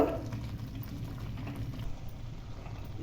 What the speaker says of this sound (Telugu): ఈ విధంగా కలుపుకుంటూ ఉండాలండి చక్కగా ఉడికిందో లేదో చెక్ చేసుకుంటూ అడుగట్టకుండా చక్కగా కలుపుకోవాలి